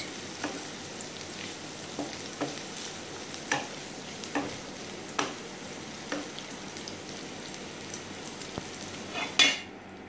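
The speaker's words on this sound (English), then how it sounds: "Just stir for a minute." Capsicum for hakka noodles fries in a pan with a continuous soft sizzle, while a utensil strikes and scrapes the pan every second or so, with one louder clatter near the end.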